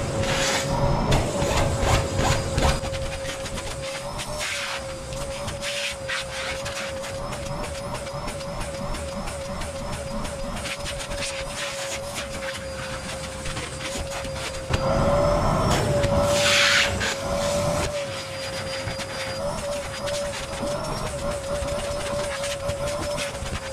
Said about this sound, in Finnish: auto imuroitu, nämä matot on imuroitu ja penkit on imuroitu